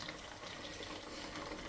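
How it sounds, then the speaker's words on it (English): Water pouring steadily into an aquarium filter, a soft, continuous splashing trickle heard close up and alone, holding even for the whole short moment. "then we're going to put some water in it, like that"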